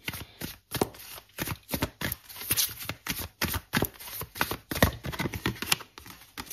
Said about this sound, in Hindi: मैं एक कार्ड आपके लिए क्लैरिफिकेशन के लिए निकालूंगी